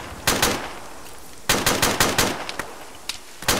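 Bursts of machine-gun fire in the military shooter game Arma, two long rattling volleys followed by scattered single shots, loud and close, with no talk.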